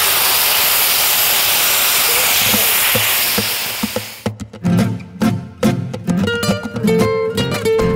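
Cream hits a hot plow-disc pan cooking guitar-string-shaped food, first a loud steady sizzling hiss that suddenly cuts off, followed by close clatter and scraping of utensils against the metal.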